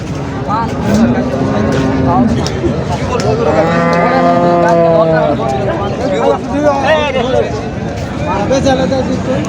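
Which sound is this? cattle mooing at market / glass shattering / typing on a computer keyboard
cattle mooing at market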